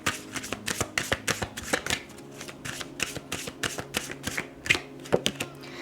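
Tarot cards are shuffled for a zodiac reading, a close run of quick, crisp riffling and slapping bursts in an uneven rhythm, with no talk.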